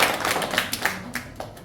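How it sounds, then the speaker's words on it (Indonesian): A class of students in a university lecture gives a short burst of scattered hand claps, a few distinct close claps spread across under two seconds. "Tepuk tangan dulu."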